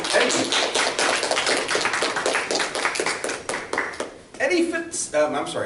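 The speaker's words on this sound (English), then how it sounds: "Let's give a round of applause to" A room full of people claps for student presenters at a 2015 science fair awards event, a dense, steady round of close applause that thins briefly before a voice comes in near the end.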